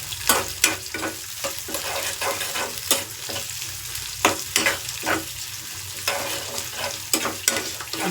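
Ginger and garlic sautéing in a pan, a constant close sizzle punctuated by frequent sharp spatula scrapes and stirs in an uneven rhythm.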